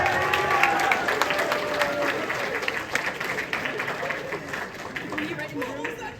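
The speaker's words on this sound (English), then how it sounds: "Can we get a round of applause for that?" Convention panel audience bursts into sustained applause with some cheering and chatter, dense and steady for several seconds before thinning slightly.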